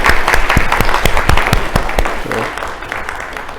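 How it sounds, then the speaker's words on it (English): An audience at a spring social work hooding ceremony claps for the faculty, with loud, distinct individual claps near the front over a broader crowd wash that gradually thins and fades. "they deserve a round of applause"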